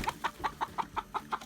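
Chickens cluck in a quick, even series of short calls near a feeder raised out of reach of pigs, close by and fairly faint with a little farmyard noise.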